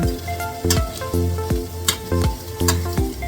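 Chicken stirred into a sautéed base in a pot for Filipino sopas, with a constant loud sizzle and a regular rhythm of spoon scrapes and knocks against the pot, close up and with no talking.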